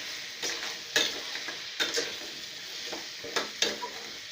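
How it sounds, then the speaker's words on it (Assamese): Pumpkin and potato frying in a pan for a pumpkin and paneer dish, stirred with a utensil: a continuous bright sizzle broken by several distinct scraping stir strokes at irregular intervals. "অলপ দেৰি পাছত আকৌ লৰাই দিছোঁ।"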